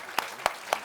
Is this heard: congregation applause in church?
yes